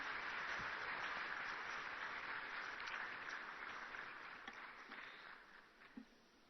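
Sustained audience applause at a formal ceremony, a dense wash of many hands clapping that stays loud for most of the stretch and then slowly thins out toward the end.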